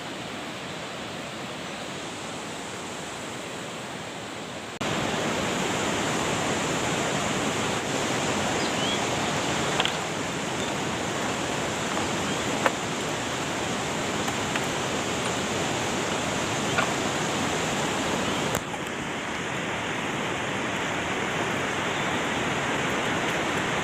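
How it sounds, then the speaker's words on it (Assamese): The Itho river flows in a steady, loud, continuous rush of water heard close by, with no talking. "এইখনে হৈছে ইথু নদী।"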